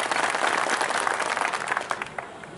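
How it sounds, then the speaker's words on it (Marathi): A crowd at a political rally in Deglur breaks into applause, many hands clapping in a dense, continuous wash that stays loud before thinning slightly toward the end. "यासाठी आपल्या सर्वांनी जोरदार टाळ्या वाजवा ही विनंती आहे"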